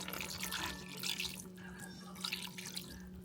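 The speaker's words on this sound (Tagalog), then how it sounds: "Pero lagyan ko siya ng tubig." Water pours and trickles into a pot of soup being cooked at home, a soft close splashing that rises and falls over a low steady hum, with no talking.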